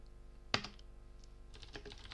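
Typing on a computer keyboard on Windows: one sharp, close keystroke, then a short flurry of lighter clicks over a faint steady hum, with nobody speaking.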